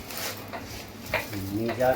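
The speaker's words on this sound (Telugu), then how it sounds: "పులిహోర పోపు వేస్తున్నారు" Spices and seasoning sizzle in hot oil as tempering for tamarind rice, cooked at a temple wedding-festival feast. Spoon strokes scrape through the crackle and a faint voice briefly joins near the end.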